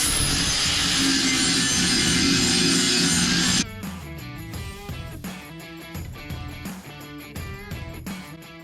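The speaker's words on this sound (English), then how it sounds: "I can turn the grinder on." A grinder runs loud and steady for about three and a half seconds, cleaning up the edge of an 8-by-34-inch carbon fiber exhaust stack for a 2.0 TDI ALH engine. It then cuts off, leaving scattered light clicks and handling noises.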